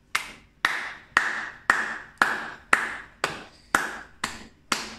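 A church worship congregation claps in a steady rhythm, about two claps per second, with crisp, close, unison hand claps and no other sound between them.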